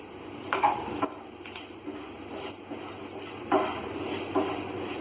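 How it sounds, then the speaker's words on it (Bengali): Sugar sizzling and being stirred with a spoon in hot ghee in a pan, soft scraping strokes and occasional metallic knocks at an irregular pace, close up with a steady faint hiss underneath. "এবার আমি এই চিনিটা এর মধ্যে দিয়ে বেশ ভালো করে লাল করে ভেজে নেব"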